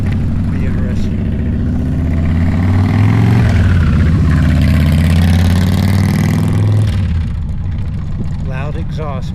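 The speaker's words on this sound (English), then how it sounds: "Loud exhaust, man, gotta love it." A vehicle's loud exhaust booms and roars through a tunnel, a deep rumbling drone that swells in the middle, then drops away, with a voice talking over it.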